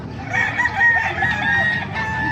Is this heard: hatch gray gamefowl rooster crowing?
yes